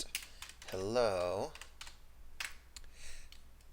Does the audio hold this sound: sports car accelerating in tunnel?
no